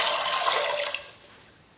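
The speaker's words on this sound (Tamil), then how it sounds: "கொண்டக்கடலை முழுகிற அளவுக்கு தண்ணி ஊற்றினா போதும்." Water poured into a pressure cooker over soaked chickpeas, a loud close rushing pour that tapers off after about a second, no speech.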